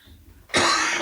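A single harsh, loud cough bursts out suddenly after a moment of quiet room tone, close to the listener.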